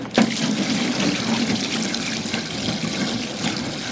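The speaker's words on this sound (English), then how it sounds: "So to prime it, you're just filling it with water until the water overflows." Water pours steadily and loudly into the intake of a Kodiak pump with a Honda motor as it is primed by filling, a continuous splashing gush that holds for the whole stretch.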